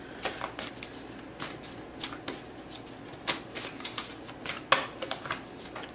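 Tarot cards are shuffled in repeated quick riffles and soft slaps, crisp and close, with irregular bursts over about six seconds and no talking.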